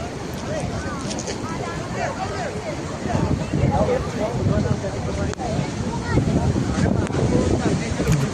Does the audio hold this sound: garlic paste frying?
no